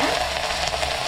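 Mustard seeds splutter and crackle in hot oil while tempering a Tamil fried fish kulambu, a steady close sizzle with no talking.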